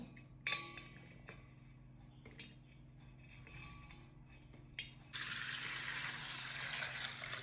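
Water runs from a tap while chopped touch-me-not plant, with root, stem and flowers, is washed for a home remedy: faint handling clatter first, then a steady louder gush of flowing water toward the end.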